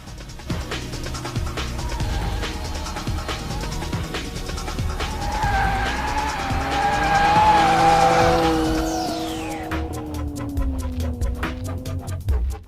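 A Jaguar XE S with the 336 bhp 3-litre V6 drives hard, its engine note rising and falling as the tires squeal through a long skid, loud and close throughout.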